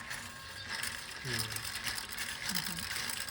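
A silk thread reeling machine in a Thai village workshop turns with a steady mechanical ratcheting clatter, broken by a few short squeaks, while people talk quietly nearby.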